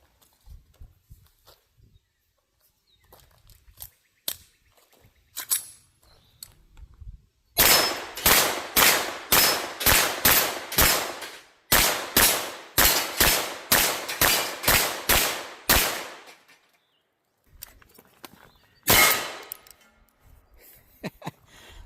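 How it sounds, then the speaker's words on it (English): A Bear Creek Arsenal BC-9 9mm pistol firing, loud sharp gunshots in a steady string of about fifteen evenly spaced rounds with a brief pause midway, then one final shot after a gap, with quieter handling clicks before. "I was going to do a little rapid there for you, but that was the last shot apparently"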